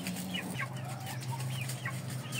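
A chicken, kept among ganoi, saigon, shamo and aseel fowl, clucks in a string of short, close, repeated calls, several in quick succession over a low steady background hum.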